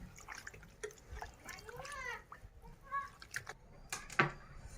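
Goat tripe (vajadi) being rinsed in water, with intermittent splashes and drips, a louder slosh near the end, while a voice talks at times.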